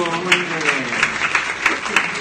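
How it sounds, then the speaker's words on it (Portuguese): An audience at a lecture breaks into applause, a dense patter of claps with a few sharper hits standing out. A voice carries through the clapping. "Mas palmas para vocês de novo."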